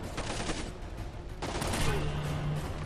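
Video game gunfire from Splinter Cell: Conviction, a quick rattling burst of shots followed by another flurry, fairly quiet and steady over game ambience.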